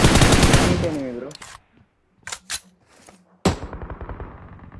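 Bursts of automatic gunfire ring out in a battle royale game match, with loud rapid shots at the start, scattered single cracks in the middle, and another volley at the end, while players talk over the action.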